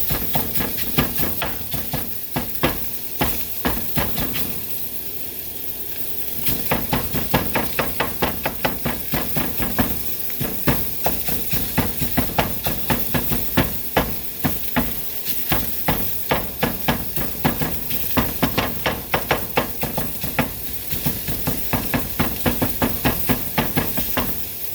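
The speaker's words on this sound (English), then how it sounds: "trying to break up the old breakfast sausage meat" Breakfast sausage meat broken up while it cooks, a dense run of rapid close tapping and scraping on the pan over a constant sizzling hiss, continuing steadily for the whole stretch.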